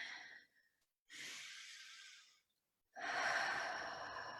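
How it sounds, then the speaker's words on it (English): A person takes slow, deep breaths in and out during a guided relaxation, three soft airy breaths separated by brief pauses, close and quiet. "take a nice deep breath in"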